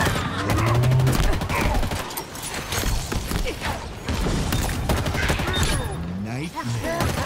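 Bursts of DMR (Bandit) rifle fire in a sci-fi shooter game ring out over a dense, busy mix of combat noise, with someone talking over much of it.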